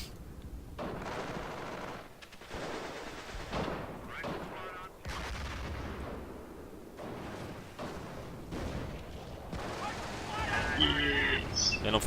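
Sticky bomb explosions and bursts of gunfire crackle in the World War II strategy game Company of Heroes, with repeated blasts and shots mixed under ongoing speech.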